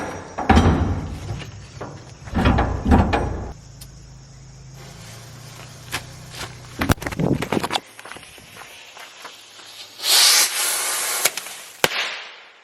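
Explosive blasts test an underground bunker, with several sharp bangs and crackling bursts early on, then scattered thuds and a loud hissing burst near the end, heard fairly close with no talk.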